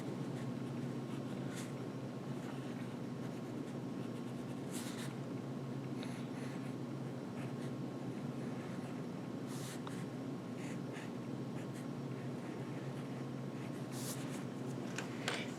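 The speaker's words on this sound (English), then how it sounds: "I'm going to draw out a few different fonts or styles of lettering" A pencil sketches lettering onto clay with faint, soft scratching strokes over a steady hum of room noise.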